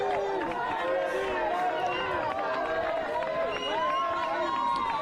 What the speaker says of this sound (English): we're going to go quiet, allow you to enjoy the crowd for a minute or two